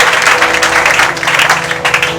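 A church congregation applauding and cheering, dense steady clapping close by with no talk over it.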